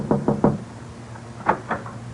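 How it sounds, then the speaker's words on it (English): Knuckles rap on the door of a countryside cottage near an estate in a short burst of three close knocks, then after a pause a softer second set of two or three knocks. "Mr. Keene, who is knocking on the door of a cottage near the Meade estate"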